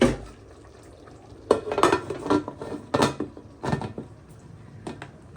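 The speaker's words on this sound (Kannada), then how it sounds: "ನೋಡಿ ಕುಕ್ಕರ್ ಮುಚ್ತೀನಿ." A pressure cooker lid is fitted and closed with a series of metallic clanks and scrapes, several close knocks spaced irregularly.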